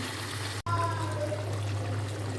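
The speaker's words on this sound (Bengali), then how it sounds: "তারপরে জল দিয়ে দেবানি" Water pours into a pot of chicken curry, a steady close trickling stream broken by one brief drop-out, over a low constant hum with no talking.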